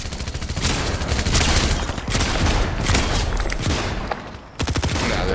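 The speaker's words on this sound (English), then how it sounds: "Nah, they're shooting at y'all." Video game gunfire in a fast shooter match, dense and loud bursts of rapid automatic shots and blasts that run almost nonstop.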